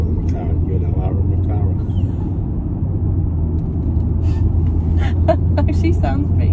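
Steady low rumble of a McLaren engine while driving, close and continuous inside the car, with people talking over it.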